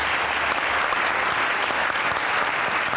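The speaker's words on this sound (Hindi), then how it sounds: "आपकी भरपूर तालियों में सैयद सलमान गिलानी।" A studio audience gives loud, sustained applause to welcome Pakistani poet Syed Salman Gilani onto a comedy talk show, a dense steady wash of clapping with no break.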